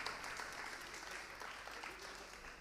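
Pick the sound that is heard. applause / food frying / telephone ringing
applause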